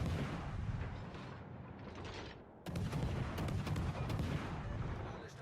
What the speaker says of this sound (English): I'm able to see he fires that salvo at the ship in front of me